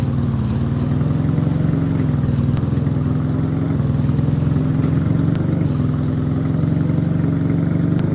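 Motorbike engine in the Vegas Crime Simulator game holds a steady mid-low drone, idling and running evenly at a constant loud level with no talking over it.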